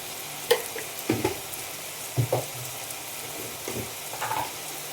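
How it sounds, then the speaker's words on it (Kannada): Chili powder, salt and sambar masala frying in a pan for ridge gourd dal sambar give off a soft steady sizzle, broken by a few sharp scraping stirs near the mic. "ಸಾಂಬಾರು ಮಸಾಲ, ಇವೆಲ್ಲವೂ ಚೆನ್ನಾಗಿ ಫ್ರೈ ಆಗಲಿ."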